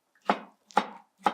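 Three knife chops on beets against a cutting board, each a sharp, close thud-and-click spaced about half a second apart, clear and alone.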